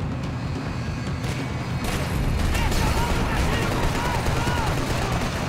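Gunfire crackles in Max Payne 3 under a busy, roaring game mix, with scattered shots and impacts layered over steady engine-like rumble.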